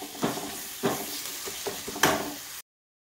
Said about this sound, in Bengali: তো মশলাটাকে আমি ভালোভাবে একটু কষিয়ে নেব।